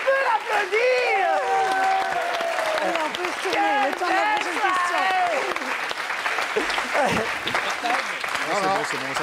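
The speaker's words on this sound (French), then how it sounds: "On peut l'applaudir." Studio audience applause at a French TV comedy sketch show, steady clapping running through the whole stretch, with loud overlapping voices and exclamations on top.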